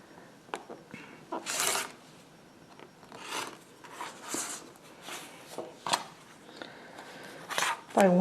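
A rust-red fabric strip for a quilt is cut in short rasping bursts, likely with a rotary cutter along a ruler, with quiet talking between cuts.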